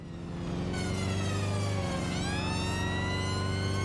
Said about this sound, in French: Oh, je peux même mettre la sirène.